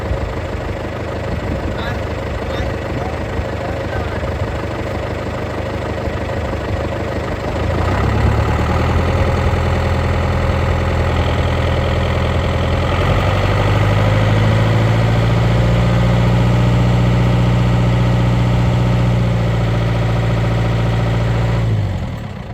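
A tractor engine runs steadily with its PTO shaft spinning at 540, a continuous droning hum that rises and thickens partway through as the load or speed increases, with no speech heard.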